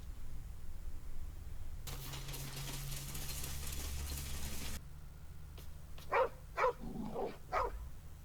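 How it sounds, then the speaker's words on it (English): A dog in Baldur's Gate 3 gives several short barks and yips near the end, after a droning rumble earlier, fairly faint and with no talking. "The dog lowers his hackles, his head tilted inquisitively"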